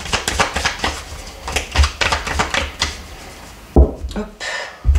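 Tarot cards shuffled for a nine-card spread, heard as a quick run of crisp riffling clicks and slaps, close and fairly loud, ending with a few sharper taps.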